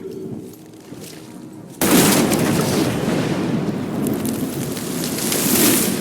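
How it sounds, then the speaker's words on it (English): A sudden heavy blast in an Evil West cutscene hits after a quieter stretch, then becomes a loud, sustained rumbling roar with crackling debris that keeps going to the end. "Now that is how you shape an explosion."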